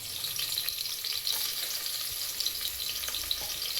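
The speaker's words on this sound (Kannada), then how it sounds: "ಮಟನ್ ಸಾಂಬಾರಿಗೆ ಒಗ್ಗರಣೆ." Spices crackling in hot oil as a tempering for mutton sambar, a bright, even sizzle with small pops and light stirring, close and without talk.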